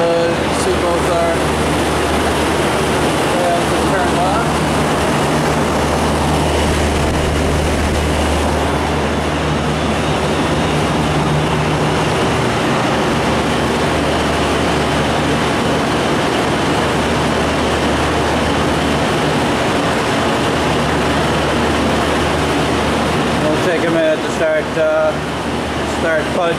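A 2010 Temptek 10-ton air-cooled chiller running on R410a gives off a loud, steady mechanical hum and fan drone, with a low tone that shifts partway through and speech faintly beneath.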